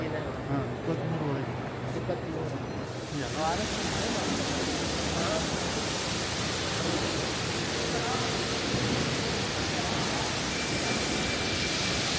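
Steady, loud rush of falling water from a fountain-type waterfall fills the whole stretch, a broad continuous hiss that swells after the first few seconds and holds evenly, with faint voices underneath.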